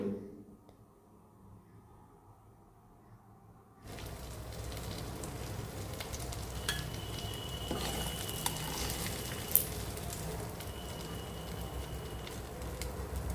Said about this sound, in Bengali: তারপর চিংড়ি মাছগুলো ভাজা হয়ে গেলে আমরা এগুলোকে